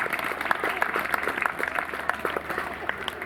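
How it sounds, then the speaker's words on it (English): A small audience claps at an owl sanctuary's birds-of-prey display, a light, scattered patter of hands with distinct individual claps, fairly close, lasting a few seconds, with faint talk underneath. "We'll give him a round of applause."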